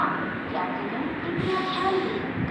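Railway ambience at Bhuvanagiri railway station in India with a train standing at the platform, a steady low rumble and station bustle continuing throughout, with faint background voices mixed in.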